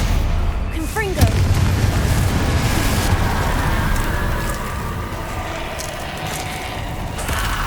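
A Confringo fire spell bursts in Hogwarts Legacy with a deep booming impact amid the rumble of combat, with a spell-casting swoosh early on and sustained low roar afterward.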